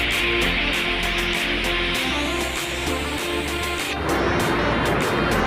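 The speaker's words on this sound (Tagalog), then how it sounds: "Sulit na sulit po ang Falls dito. Ang lakas po ng agos!" Binibitinan Falls, a tall, cold, rocky waterfall, roars with a strong current in a loud, steady broadband rush that fills the whole clip, with no talk over it.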